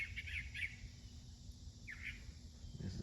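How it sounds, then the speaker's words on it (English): In a backyard vegetable garden among okra plants, a bird gives a few short, bright chirps in quick bursts, then another call a moment later, faint against a quiet outdoor hum. "this is beautiful bird chirping just behind me"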